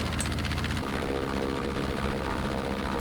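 Aircraft in the video game Battlefield V, set at Iwo Jima: a steady, loud, close propeller-engine roar with a rapid throbbing pulse that holds for the full few seconds.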